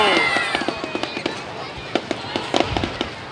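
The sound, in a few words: New Year fireworks display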